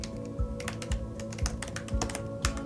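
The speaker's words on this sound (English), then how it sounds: "And I'm gonna type in my email address" Keystrokes on a computer keyboard as an email address is typed, a quick irregular run of light clicks and taps, close and clear with no talking.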